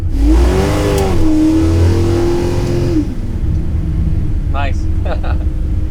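A 1969 Camaro with a small-block engine revs hard and close for about three seconds, a loud rising and falling growl, then drops to a low idle rumble while someone briefly speaks.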